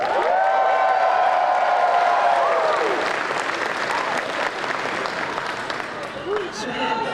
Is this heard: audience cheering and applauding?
yes